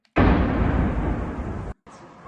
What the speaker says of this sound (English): Sounds like probably a drone that slammed into a high-rise building there.